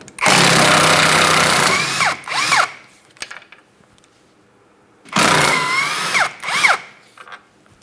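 Power tool drilling off 16mm engine mount bolts on a 2008-2016 Chrysler Town & Country, two loud whirring bursts each ending in rising and falling speed changes, separated by quiet.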